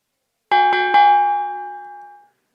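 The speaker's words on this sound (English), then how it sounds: "That was the boxing bell." Boxing bell sound effect: three rapid metallic strikes that merge into one bright, ringing tone, loud and close, then a long clean decay with no voices.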